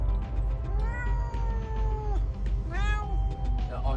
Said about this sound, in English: We got Stevie, the good kitty.